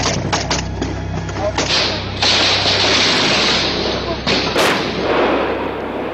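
Gunfire in war footage recorded on phone cameras during a Georgian army advance, heard as a series of sharp bangs and thuds against a rough, noisy background, with some bursts louder and nearer than others.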